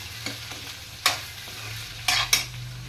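Golden-fried potatoes sizzle in a pan while a spoon scrapes and stirs, soft frying hiss beneath several sharp metallic clinks and scrapes, no voices.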